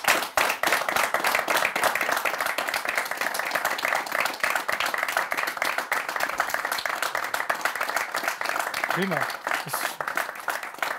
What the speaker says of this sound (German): Das ist ein langer Applaus.